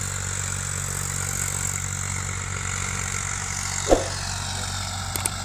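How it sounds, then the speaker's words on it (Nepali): A tractor engine drones steadily at a distance while ploughing a field, a low, even rumble with a brief knock partway through. "यहाँनिर जोतिरहेको छ दुईवटा ट्र्याक्टरहरू"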